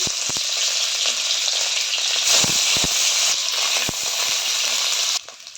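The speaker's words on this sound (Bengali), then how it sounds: "পনিরগুলোকে ভেজে নিচ্ছি।" Pieces of paneer sizzle steadily in hot oil, a loud continuous crackle with occasional pops, stopping abruptly at the end.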